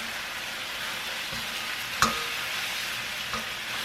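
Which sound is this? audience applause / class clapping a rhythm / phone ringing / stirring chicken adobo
stirring chicken adobo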